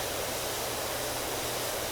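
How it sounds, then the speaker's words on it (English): Continuous broadband hiss of a pressure washer's water jet in the video game Power Wash Simulator, steady and even like white noise, with no talking. "It's the sound of water being sprayed."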